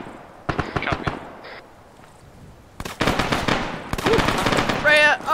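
Gunfire in the ArmA 3 military simulation game, during a convoy operation in Fallujah: a few quick rifle shots, then dense bursts of automatic fire, with radio-style voices talking over the action.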